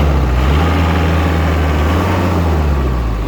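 A Kubota Saturn X-24 four-cylinder mini tractor engine runs at maximum revs, a loud, constant low drone with a smooth, even hum and no variation.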